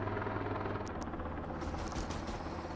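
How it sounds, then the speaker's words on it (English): A military helicopter hovers in a video game, its rotor and engine making a steady low throbbing drone that stays loud and close throughout, with faint clicks and scrapes on top and no talk. "we can't land the helicopter right now."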